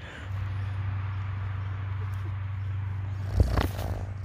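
A cat purrs close by, a steady low rumble that runs almost the whole time, broken near the end by a brief rustle or bump.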